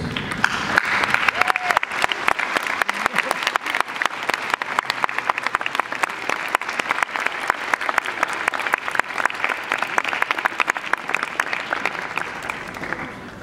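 A large crowd at a graduation-style speech claps enthusiastically in a long, dense round of applause, steady and bright throughout with a few voices faintly audible beneath.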